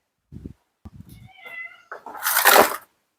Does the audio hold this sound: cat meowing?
yes